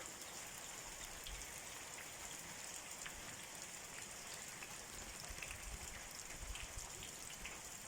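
Heavy rain in Xiangkhouang pours down as a steady, dense hiss of falling drops, even and unbroken, faint and distant with no voices.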